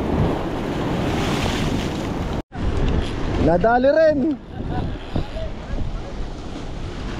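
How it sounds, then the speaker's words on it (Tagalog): Choppy sea waves wash against a shore at low tide while fishing from land, a loud steady roar of surf and gusting wind buffeting the microphone, with someone speaking briefly over it. "Medyo maalon mga kadiskarte, pero mababa lang ang tubig."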